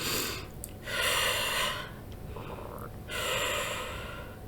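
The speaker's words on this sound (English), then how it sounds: "so we're going to take 3 deep breaths" Three deep breaths taken slowly during a guided money meditation: long, close, breathy inhales and exhales rising and falling in an even rhythm, with no speech.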